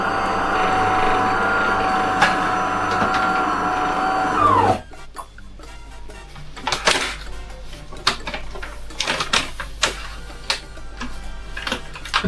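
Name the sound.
DeLonghi Magnifica Plus coffee machine pump running dry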